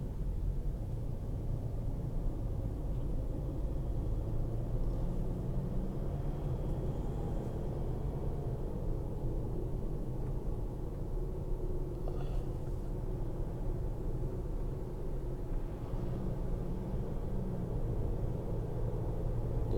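A car drives the coastal road from Lazarevskoye to Golovinka near Sochi, heard from inside as a faint, steady low road rumble with soft engine hum and no talk.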